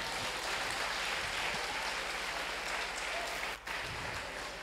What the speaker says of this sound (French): Acclamez Jésus ce matin